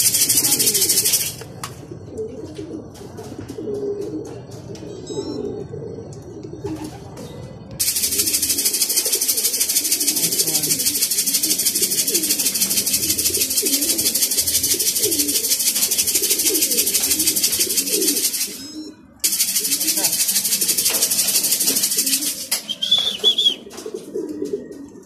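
Racing pigeons coo softly on arrival at their loft after a national derby race from Vigan, with repeated low throaty calls over a steady bright outdoor hiss that drops out briefly partway through.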